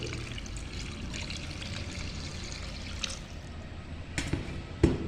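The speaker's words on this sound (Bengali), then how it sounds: "এখন আমি পরিমাণ মতন জল দিয়ে দিচ্ছি" Water pours in a steady, close trickle into a potato curry cooking in a pan, with a couple of sharp clinks near the end.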